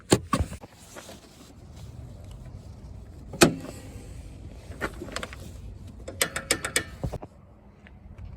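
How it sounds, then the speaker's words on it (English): Close mechanical clicks, clunks and a sharp latch snap come from opening the hood of a 2021 Jeep Grand Cherokee, with scattered rattles and a quick cluster of ratcheting clicks near the end. "Step one, open the hood"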